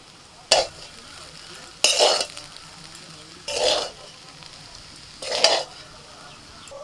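Vegetables and a handful of coriander stirred into chili garlic rice frying in a pan, with four separate scraping, sizzling stirs spaced a second or so apart over a quiet background.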